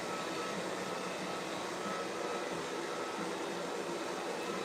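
A blow dryer runs steadily at home, giving a constant broadband whooshing roar that stays even and fairly quiet throughout, with no voices.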